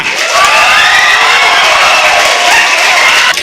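Loud crowd of medical college students at a freshers day celebration cheering, whooping and clapping together in a sustained roar, voices and hands blending without pause.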